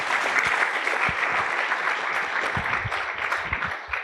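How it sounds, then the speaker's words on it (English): An audience at an awards ceremony breaks into sustained applause, dense clapping from a large crowd holding steady throughout without fading. "Another round of applause"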